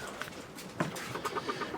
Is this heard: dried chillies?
no